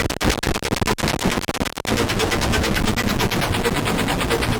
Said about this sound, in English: Bit rate reduction, bit crushing. This is the kind of the meanest this synthesizer will get.